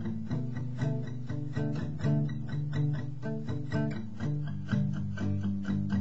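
Soft guitar strumming of chord changes for a song, a steady rhythmic pattern of even strokes played alone at moderate volume without any talking.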